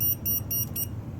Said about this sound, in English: even though you're testing it and it may beep, it'll be a slow beep like that